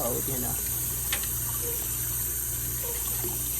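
Cold water runs steadily from a tap at a garden wash station, a continuous close splashing flow with no break over its few seconds.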